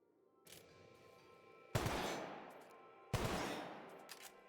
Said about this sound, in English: Let's try out this new pistol.